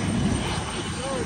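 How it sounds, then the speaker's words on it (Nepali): An airplane takes off at an airport in London, a broad engine roar in the distance that partly covers nearby voices talking. "एउटा प्लेन उड्न लागिसक्यो ब्रिङहोमको लागि।"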